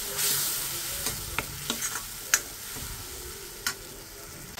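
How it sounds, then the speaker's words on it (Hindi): Spice masala frying in oil in a pan for paneer bhujia, a close steady sizzle punctuated by several distinct spoon scrapes and knocks against the pan, with no talking. "मसाले को भी अब अच्छे से भून लेंगे जब तक ये तेल ना छोड़ दे।"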